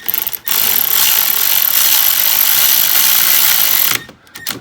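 A power tool drives a bolt into the aluminum valve cover area of a 2009 Toyota Corolla S Turbo engine, a loud, close, continuous high-pitched whir lasting several seconds before stopping abruptly.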